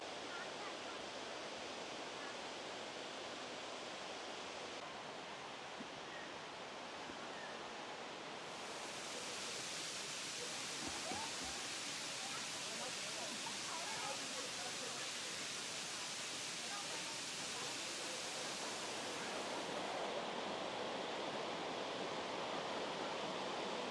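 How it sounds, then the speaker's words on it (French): Erawan waterfall in Thailand, its cascade a constant broadband roar of falling water heard close up, swelling louder partway through and holding steady with no talk. "On va juste admirer la beauté des différents niveaux de cette cascade."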